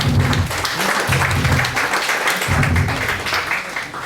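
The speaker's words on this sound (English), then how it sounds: "Let's give a big round of applause for our valuable guest" Applause from a seminar audience welcoming a guest at a national seminar on women empowerment held by an MBA department, steady clapping over a few seconds with low rhythmic thumps beneath it.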